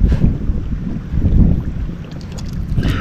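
Loud, gusty wind buffets the microphone at a seaside spot where shellfish are being foraged and cooked, a heavy low rumble that surges and eases in waves with no talking.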